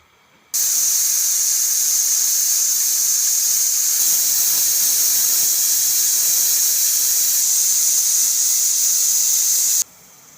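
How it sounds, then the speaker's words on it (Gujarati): A pressure cooker cooking dried pigeon peas lets off a loud, steady, high-pitched steam whistle that starts abruptly, holds unbroken for about nine seconds, then cuts off sharply. "આપણે કુકરનું ઢાંકણું બંધ કરી દેવું અને ચાર સીટી થવા દેવું"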